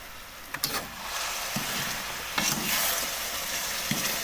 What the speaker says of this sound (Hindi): अब हमने इसको अच्छे से मिक्स कर लेना है